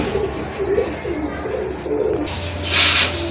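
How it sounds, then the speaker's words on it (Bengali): A pair of racing pigeons coo in soft, low repeated calls, several gentle rolling coos close by, with faint background noise and no speech. "খুবই সুন্দর এক জোড়া কবুতর, রানিং কবুতর সম্পূর্ণ।"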